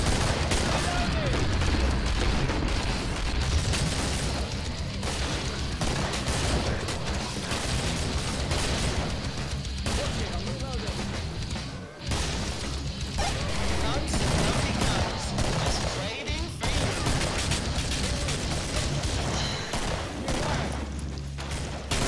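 Dense, continuous gunfire and explosions fill a frantic Killing Floor fight, loud and sustained throughout with barely a break, while a player talks over the din.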